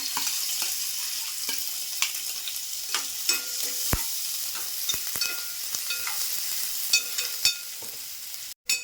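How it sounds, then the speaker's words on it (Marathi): Onion frying in hot oil in a pot for a village-style Malvani crab curry tempering, a steady close sizzle with occasional stirring scrapes and clicks, no talk. "आता कांदा टाकते फोडणीला"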